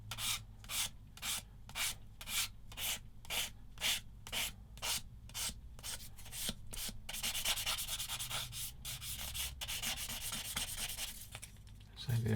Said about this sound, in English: So I'm going to get the old sanding sticks.